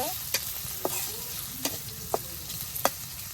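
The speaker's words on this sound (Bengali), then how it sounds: "পেঁয়াজ রসুনটা ভালোভাবে বেজে নেবো" Chopped onion and garlic fry in a pan for a pulao and meat meal, a steady close sizzle broken by several sharp spatula clicks and scrapes spaced through the stretch.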